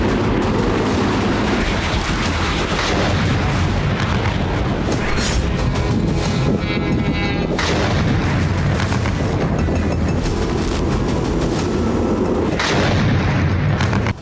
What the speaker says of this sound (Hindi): रोबोतीन में रूसी सेना ने T-90 टैंक से भारी गोलाबारी की है।